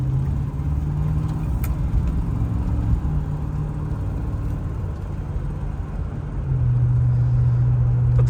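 A 1973 Ford V8 car engine rumbles steadily from inside the vehicle while driving at night, a low droning hum that swells slightly toward the end.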